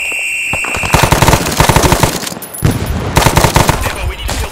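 Automatic machine gun fire in the Arma 3 SOG Prairie Fire combat game, loud rapid bursts of shots in two long strings separated by a brief lull, with close gunfire dominating throughout.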